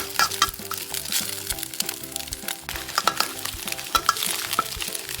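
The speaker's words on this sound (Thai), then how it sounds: "จากนั้นยียีผัดผัด ให้ไข่สุก" Egg being stir-fried in a pan while cooking glass noodles with egg, a continuous loud sizzle broken by repeated scraping strokes of a spatula, with no talking.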